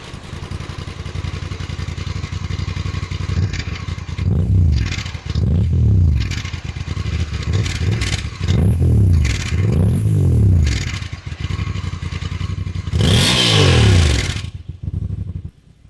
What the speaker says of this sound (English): So this characteristic purring of the twin cylinder,